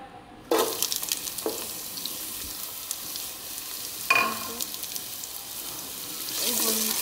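Chopped onion hits hot oil in a pan for a spiced okra dish, a sudden loud sizzle that then settles into a steady crackling fry with occasional stirring clatters, close up and with no talking.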